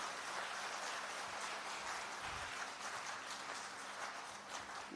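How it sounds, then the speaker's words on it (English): An audience at a foundation stone laying ceremony claps in a continuous, even wash of applause that sounds faint and distant, with no voices over it. "So can we give a round of applause?"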